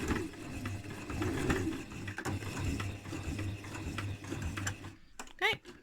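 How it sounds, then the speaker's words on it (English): A sewing machine runs at a steady pace, stitching drawstring bag fabric up to the edge and then backing up in reverse. The whirring hum is close and moderate in volume. It stops near the end, leaving a few faint clicks and a brief voice. "I'm going to stitch right up to the edge and then I'm going to reverse back"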